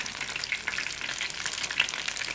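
Flour-coated chicken rolls fry in hot oil with a steady, dense sizzle and crackle, close and continuous throughout with small popping bursts and no talking.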